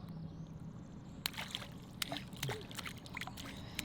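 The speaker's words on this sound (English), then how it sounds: "He does love splashing." A baby splashes in water: quiet sloshing and small splashes from about a second in, with brief irregular bursts of splashing over a low background murmur.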